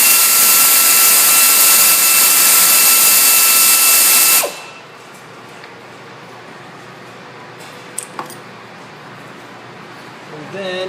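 A power tool removes 10mm bolts from the EGR valve on a Ford Fusion 3.0L DOHC engine, whining loudly and steadily for about four seconds before cutting off abruptly, followed by quiet with a couple of faint clicks.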